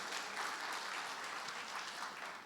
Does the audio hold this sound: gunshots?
no